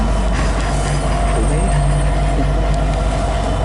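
A long freight train with SD90MAC rebuild locomotives and a distributed power unit rolls past at evening, giving a steady, loud rumble of wheels and rail noise with a faint squeal throughout.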